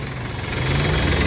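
Sonalika tractor diesel engine fitted with a CAV inline pump, running with a steady, slightly knocking idle rumble, close and continuous through a brief moment.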